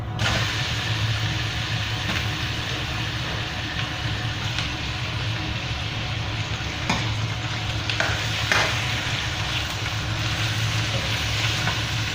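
Chicken pieces sizzle and fry steadily in a pan of cooked onions, a loud continuous crackle with occasional scraping stirs and clatters throughout.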